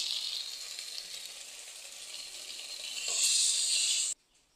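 A steady sizzle and hiss rise from a pan of frying okra and fish curry as water goes in, growing louder near the end and then cutting off abruptly.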